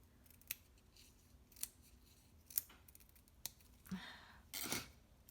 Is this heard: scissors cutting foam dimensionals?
yes